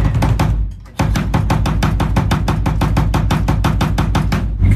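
Rapid, steady drumming on a drum kit in a thrash metal style. Loose hardware rattles throughout, along with dense, fast, even hits that stop briefly near the start and then continue loud and close.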